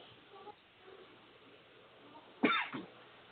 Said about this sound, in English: I seem to have the cough today for some reason.